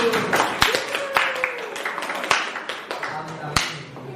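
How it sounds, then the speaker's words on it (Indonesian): Classroom applause, a scattered group of hands clapping unevenly at close range, thinning out and fading toward the end, with voices talking over it. "Kita kasih aplaus dulu."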